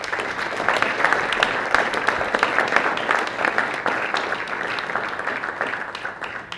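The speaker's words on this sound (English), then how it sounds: "So why don't you give yourselves a round of applause." A large audience at the 2009 Jefferson Awards gala in Chicago applauds itself, a dense, even wash of many hands clapping that holds steady, then thins slightly toward the end.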